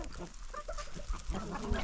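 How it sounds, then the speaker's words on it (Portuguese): A large duck on a rural farm, giving a few rough honking quacks at close range amid faint farmyard noise. "Esse é o patão."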